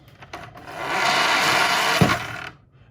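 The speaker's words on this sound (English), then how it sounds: "you can test the motor using a 9-volt battery. And if you're able to make contact, it should do this" Small electric motor from a 1976 Sunken Treasure board game, powered by a 9-volt battery, whirring up close for about two seconds. It starts with a few clicks of contact, then stops abruptly.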